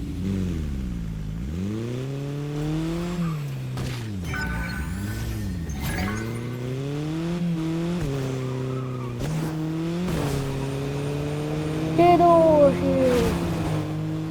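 Car driving and skidding in Fortnite, a steady engine drone rising and falling in pitch with tire squeals over about fourteen seconds; faint voices mixed in with the engine.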